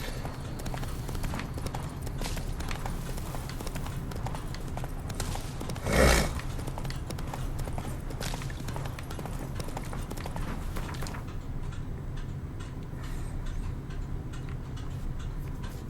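The horse Roach galloping in The Witcher 3: Wild Hunt, a steady run of rhythmic hoofbeats across the whole stretch, with one louder thump partway through and game ambience underneath.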